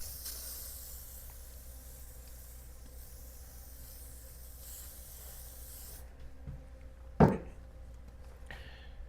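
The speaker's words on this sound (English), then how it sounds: "WD-40. Just spray the heck out of it." A WD-40 spray can sprays steadily onto duct tape residue, a continuous close hiss lasting several seconds, followed by a quieter stretch and one short sharp knock.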